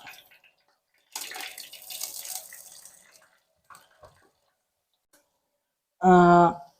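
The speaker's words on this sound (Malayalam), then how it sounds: "വെളിച്ചെണ്ണ ചൂടായി കഴിഞ്ഞാൽ നമുക്ക് ആദ്യം തന്നെ ഒന്ന് ഇഞ്ചി ഇട്ട് കൊടുക്കാം" Ginger dropped into hot coconut oil gives a short sizzling hiss for about two seconds that fades out, later followed by a brief, loud tonal sound.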